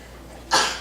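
A single short, sharp sneeze that bursts out abruptly after near silence, close and fairly loud, then trails off with a breathy tail.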